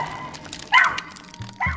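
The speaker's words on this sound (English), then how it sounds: "Their tails wagged and they barked happily while checking out the car with curiosity." Dogs give a few short, excited yips and barks while checking out and chewing on a parked car, two quick bursts over a faint background hiss.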